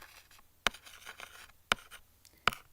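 A pen writing on paper during a chemistry walkthrough, with three sharp scratchy strokes spaced about a second apart over faint background hiss, close and fairly quiet with no talking.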